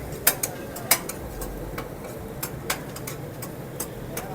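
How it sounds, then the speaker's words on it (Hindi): Kebabs fry on a street food griddle with a low, steady sizzle, and sharp spatula clacks ring out against the metal at irregular intervals, close and fairly loud. "ये अब कबाब फ्राई हो रहे हैं"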